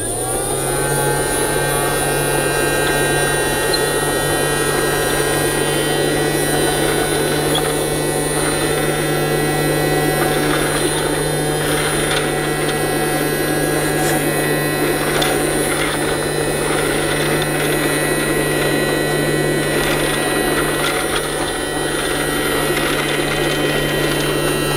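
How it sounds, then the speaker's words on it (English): A Casdon toy Dyson DC24 vacuum cleaner runs on carpet, giving a loud, steady electric motor whine and hum that holds unbroken throughout. "let's try it again on the carpet."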